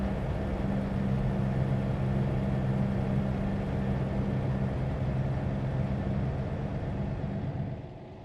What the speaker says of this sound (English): This truck has quite the noisy engine.